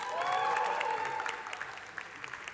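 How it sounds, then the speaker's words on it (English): Audience applause at an arts session, a brief burst of clapping with cheering and whoops that peaks early and quickly tapers off into scattered claps. "Big round of applause for them, please."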